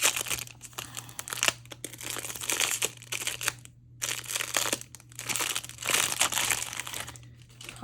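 Collage paper is crinkled and crumpled during craft prep, a loud, close, continuous rustling in irregular bursts with a few brief pauses.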